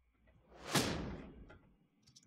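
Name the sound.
reverse impact sound effect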